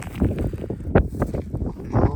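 Wind buffets a microphone in a frost-killed rapeseed field at minus nine degrees, a steady low roar with gusty swells and one sharper rush near the middle, no speech.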